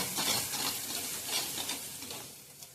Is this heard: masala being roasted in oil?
yes